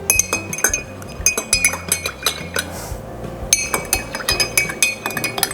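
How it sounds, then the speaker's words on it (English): A spoon clinks repeatedly against a glass while stirring a chocolate latte, producing bright, irregular metallic taps close by with a light liquid swirl underneath. "I'm gonna give that a quick stir."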